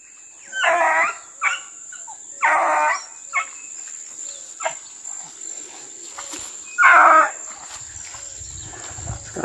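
Hunting dogs on a paca hunt bay in the distance, a young dog trying to keep up with the older ones; several spaced bursts of baying ring out over a steady insect drone.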